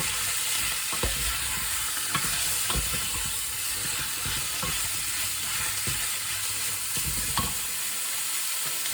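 Bacon, liver and onion sizzle in a pan as they are stirred together, a soft continuous frying hiss with occasional scrapes and clicks of the utensil, heard up close and without talk.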